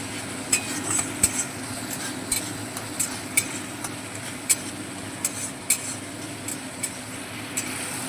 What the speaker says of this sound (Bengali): টক দইটা সমস্ত মশলার সঙ্গে খুব ভালোভাবে মেরে ছেড়ে মিশিয়ে নিলাম